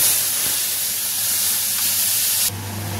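Ground spice paste hits melted sugar in a hot pan, giving a loud, steady sizzling hiss that shifts to a softer, lower tone near the end.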